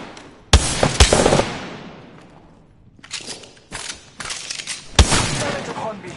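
Bursts of gunfire in the video game Apex Legends, with sharp loud shots near the start and a dense rapid volley at the end, while voices talk between the shots.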